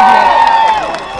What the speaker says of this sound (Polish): wielkie, gorące brawa, proszę Państwa